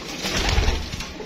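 Soft, low coos of Rampuri pigeons rumble together, a short burst of cooing from nearby birds with no talking.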